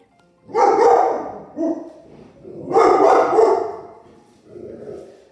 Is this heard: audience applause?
no